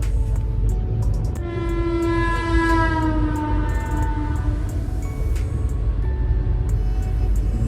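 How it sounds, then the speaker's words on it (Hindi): A passenger train on an Indian rail journey rolls along the rails with a constant low rumble, while a long, loud, wavering horn blast sounds nearby for several seconds. "फिलहाल अपनी गाड़ी भी निकल चली है ऑन टाइम"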